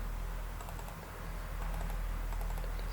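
Steady, quiet typing on a computer keyboard, with rapid light key clicks in an even stream and no talking.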